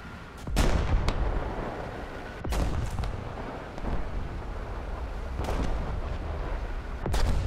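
Heavy artillery fire in the tank battle game War Thunder booms several times at irregular intervals, with deep blasts and rumbling echoes and no voices.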